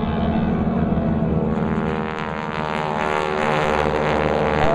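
Vintage propeller aircraft of the GEICO Skytypers drone loudly overhead, a steady, rich engine and propeller roar that swells slightly and shifts pitch as the planes pass.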